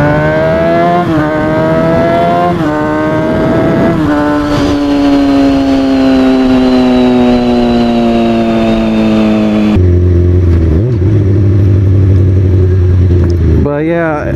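A loud Kawasaki ZX-6R 636 sport motorcycle engine revs hard at high speed, pitch climbing through gears then settling, with a sharp shift and renewed rising whine near the end.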